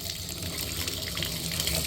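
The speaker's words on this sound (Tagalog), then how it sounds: "Yan, yung tubig. Ang lakas ng tubig nila, ayan oh." Strong water gushing from a campsite tap, a loud continuous splashing rush heard up close with no talking.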